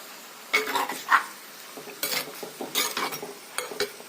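Ingredients being stirred in an oiled pan, with a few short scraping and clinking strokes of a utensil against the pan and a faint sizzle between them, close by and without talk.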